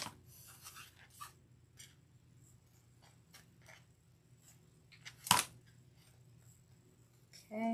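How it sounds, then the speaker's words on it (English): Small indentions being cut out of a busted craft canvas: quiet, irregular snips and scratchy rasps close by, with one louder sharp cut partway through and a bump at the end. "Just want to cut those out."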